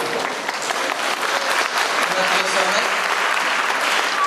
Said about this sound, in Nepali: यसकारण यो होलसेलमा भने ताली बजाइदिनु होला।